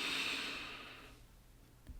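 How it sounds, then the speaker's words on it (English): A single slow, deep breath drawn in close to the mic, a soft airy hiss that fades out, followed by quiet. "Take a deep breath in."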